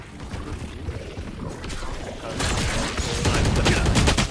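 Gunfire in Counter-Strike 2, a dense crackling volley that grows louder midway and continues as rapid bursts mixed with mechanical clatter.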